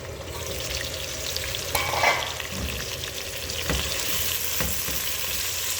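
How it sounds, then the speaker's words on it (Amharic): Chopped onions frying in a pan with a lot of moisture, a strong continuous sizzle with scraping stir strokes and a few clinks of a utensil against the pan, close and alone. "በዚህ መልኩ ሽንኩርት እየጠበስኩ ነው።"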